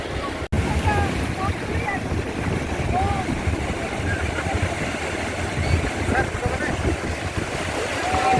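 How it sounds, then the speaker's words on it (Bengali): Continuous roar of surf washing ashore at Puri beach with heavy wind buffeting the microphone, steady and loud for the whole stretch. "ঢেউ ভাঙার এই আওয়াজটা কানে কিন্তু বেশ মধুর লাগে"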